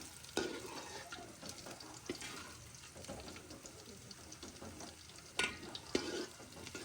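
Onions fry in a big pot for a rohu fish curry with a soft, continuous sizzle and scraping stirs. A few louder clatters stand out against a quiet, slightly watery kitchen background.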